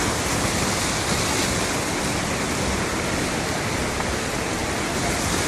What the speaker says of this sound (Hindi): ये झरना यहाँ से शुरू होता है, फिर यहीं से झरना शुरू हो करके तो पानी तक पहुँच जाता है।